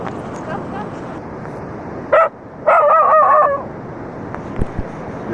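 A dog on a beach where fishing boats are laid up for the monsoon gives a single sharp bark, then a longer run of barking and yipping, close and loud over the steady surf.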